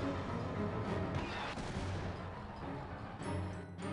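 A confusion grenade explodes in the Psychonauts video game, a dense rumbling blast that rolls on for several seconds with crackling bursts layered over a sustained low roar, loud and close.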